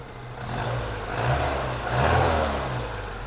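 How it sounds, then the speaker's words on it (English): Engine of a 1972 Moskvitch IZH 412 car running steadily with a low, even hum, swelling twice into moderate revs before settling back, close and clear with no talk. "Great running engine."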